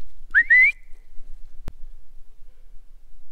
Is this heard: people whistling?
yes